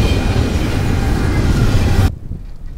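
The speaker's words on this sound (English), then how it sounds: "the trains are running all night blowing their horn." A train on the triple tracks running through the small town of Sierra Blanca gives a steady, close rumble and rattle of wheels on rails, then cuts off abruptly into quiet.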